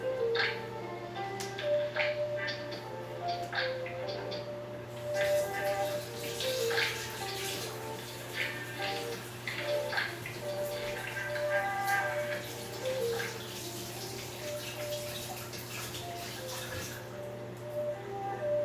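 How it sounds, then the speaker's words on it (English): Tap water runs from a kitchen faucet as hands are washed, a steady splashing stream that carries on throughout at moderate loudness, with light clinks and soft background voices mixed in. "Now I gotta wash my hands."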